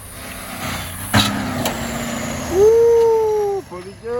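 A Ford CO9670 truck with a 350 Big Cam diesel accelerates hard in fourth gear, engine pitch climbing into a loud sustained roar before cutting off abruptly, with a short thump earlier and voices nearby.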